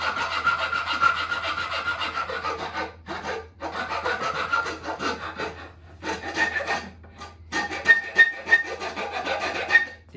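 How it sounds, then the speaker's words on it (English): Steel file rasping back and forth along a piece of wood to shape a simple doll's neck, a close, scratchy grating in repeated strokes with short pauses between bursts. "I'm going to make the neck by just running the file along like this."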